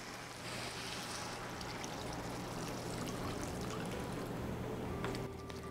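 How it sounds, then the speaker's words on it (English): Beef broth pours into a skillet of beef and rice, a soft continuous liquid rush and trickle that stays fairly faint and steady for several seconds, with no talking. "Now I'm gonna add my beef broth."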